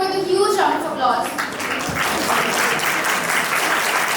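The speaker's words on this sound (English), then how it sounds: "Please welcome her with a huge round of applause." Dense, steady applause from an audience welcoming a speaker at a certificates distribution ceremony, filling the room loudly from start to finish, with voices briefly audible over the clapping near the start.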